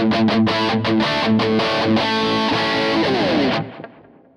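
High-gain electric guitar through a Kemper running a modded Marshall profile with no boost, heavily distorted riffing at full volume, then ringing out and cutting off near the end.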